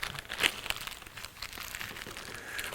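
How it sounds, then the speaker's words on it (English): A razor blade slices into new plastic packaging around a GearWrench metric wrench set, giving faint crinkling and crackling with a sharper snap early on, close and quiet, no talk. "let's get out the handy razor blade and just cut through the plastic here"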